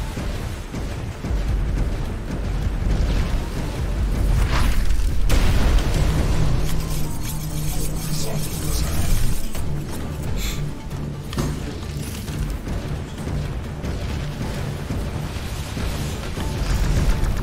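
Bombs detonate in the sci-fi tower-defense game X-Morph: Defense, a run of deep booming blasts and bursting pops layered over dense mechanical game noise, continuous and loud with no one speaking.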